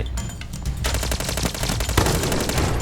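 Rapid automatic gunfire in the video game Arena Breakout: a close, loud, continuous stream of shots in a tight, fast rhythm that runs the whole time.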